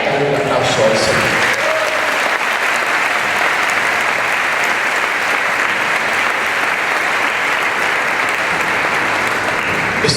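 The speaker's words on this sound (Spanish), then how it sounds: "Dale un aplauso al Señor." A church congregation breaks into loud, sustained applause during a Catholic charismatic service, dense continuous clapping filling the space after a brief moment of speech at the start.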